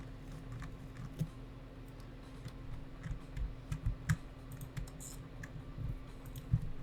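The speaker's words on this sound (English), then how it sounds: "My keyboard is on." Computer keyboard typing comes in irregular bursts of soft clicks and taps, close and fairly quiet, over a steady low electrical hum with no talk.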